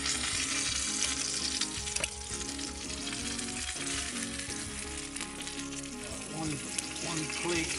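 Rice heating in a pan at a riverside campsite gives a steady, loud sizzle and crackle that runs the whole way through, with faint low rumbling underneath and no talking.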